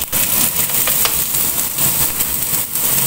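Carrots sizzle in a pan with onions already softened to translucent, cooking for a salmon spaghetti; a steady, close, dense frying hiss runs throughout with no talking.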